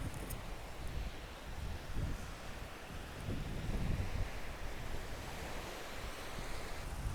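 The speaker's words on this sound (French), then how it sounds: "désolé pour le vent, c'est la tempête ici." Strong stormy wind buffets the microphone on a beach near La Londe-les-Maures in late June, with constant roaring surf and crashing waves beneath, loud and unbroken throughout.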